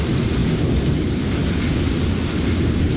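Heavy rain pours down during an intense lightning storm, a loud, steady, dense roar that stays constant throughout with no clear thunderclap standing out.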